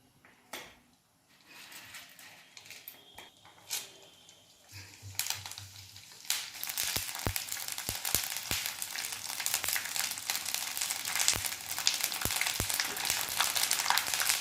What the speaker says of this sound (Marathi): आता त्यामध्ये मी हे साबुदाणा घालून घेते तळायसाठी.